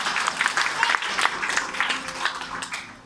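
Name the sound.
congregation applause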